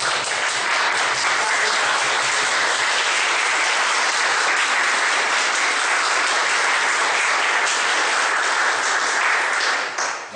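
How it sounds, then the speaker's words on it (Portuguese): A community audience gives the teachers a loud, sustained round of dense applause lasting about ten seconds without a break. "façamos um grande aplauso aos professores de reverência"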